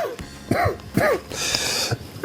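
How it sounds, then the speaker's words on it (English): A man coughs and clears his throat several times in quick succession, close and fairly loud, with no speech. "during that coughing fit"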